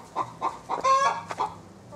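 Backyard hens in an urban garden cluck close by in a quick series of short calls, with one longer squawk in the middle.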